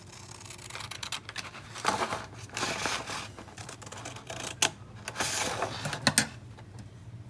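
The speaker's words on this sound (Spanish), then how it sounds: "procedemos a cortarla con las tijeras" Scissors cut through a strip of paper in a series of crisp snips and rustles, irregular and close, with short pauses between cuts and no talking.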